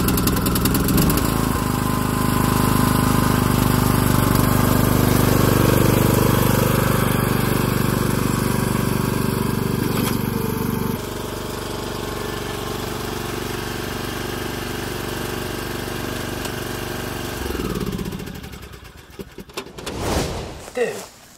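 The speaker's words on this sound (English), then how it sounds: "But thankfully we got the lawn tractor back." A lawn tractor engine idles steadily for a long stretch, dropping in pitch partway through, then sputters and cuts out near the end.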